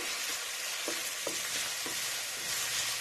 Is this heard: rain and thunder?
no